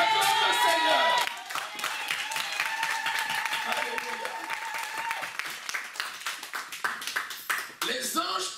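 A church congregation claps and cheers in praise, a dense, loud wash of applause filling the space, with a tonal voice or music line running beneath and the crowd noise persisting throughout.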